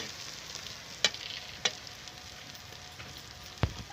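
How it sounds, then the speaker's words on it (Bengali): Masala paste for rajma chicken frying in oil, a continuous close sizzle broken by three or four sharp spoon scrapes and clicks against the pan. "ভালো করে মশলাটা কষে নেব"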